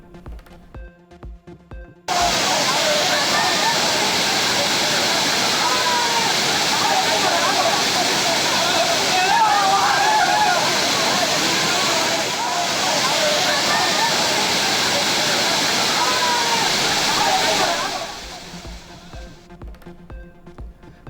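Waterfalls crowded with bathing tourists in Theni, Coimbatore and Tiruppur, a loud, steady broadband roar of falling water lasting about fifteen seconds, starting and ending abruptly between quieter stretches of background music.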